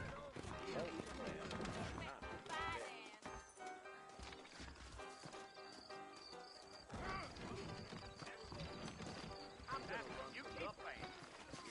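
Horse hooves clip-clopping in the Western video game Red Dead Redemption, mixed under game music and character dialogue, with a horse whinnying as the horses are saddled up.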